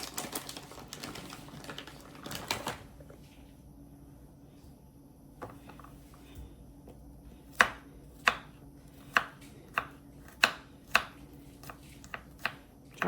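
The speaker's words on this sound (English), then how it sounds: "we're gonna mince up some garlic cloves" Garlic cloves minced with a knife on a cutting board for shrimp scampi: after quieter handling, a run of crisp, evenly spaced chops rings out close by, about one every half second.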